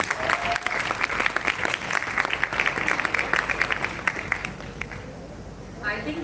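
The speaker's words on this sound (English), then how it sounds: "ये तालियां इन सारी औरतों के लिए भी है जो यहाँ आई हैं" Audience applause at the Jaipur Literature Festival, a steady crowd of clapping that carries on, fades toward the end and then briefly picks up again, with talk mixed in.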